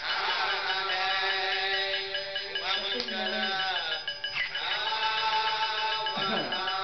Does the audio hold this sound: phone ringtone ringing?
yes